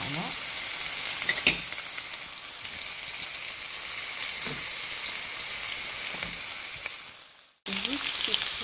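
Onions and garlic fry gently in a pan for a spinach and salmon risotto, a close, steady sizzle with a few stirring clatters, cutting briefly to silence near the end before the frying resumes.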